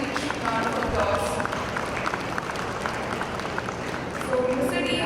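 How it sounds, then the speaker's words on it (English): Steady applause from a crowd fills the room, dense and continuous throughout, with a few voices faintly audible underneath. "Have a very, very huge round of applause."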